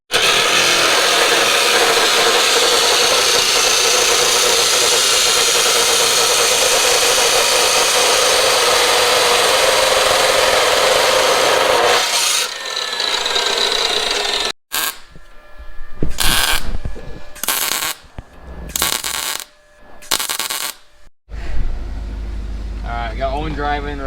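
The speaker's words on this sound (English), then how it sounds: "cut up a piece of exhaust and we're gonna try to make something work" Loud, steady grinding roar from a piece of exhaust pipe being cut up fills the first half, then gives way to short, choppy bursts of cutting and handling noise separated by brief gaps.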